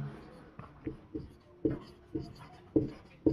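Pen or pencil scratching on paper in a quiet room, short strokes with soft taps, sounding close and faint in an uneven rhythm.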